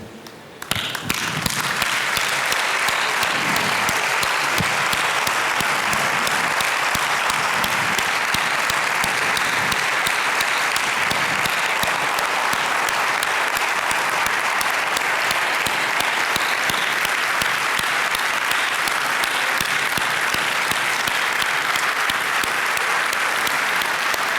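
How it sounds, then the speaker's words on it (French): A standing audience gives long, loud applause for soldiers who fought terrorism. After a short lead-in the clapping swells quickly and holds as a dense, even roar of hands for over twenty seconds. "levez-vous, nous allons les applaudir, ces vaillants soldats qui se sont battus pour nous"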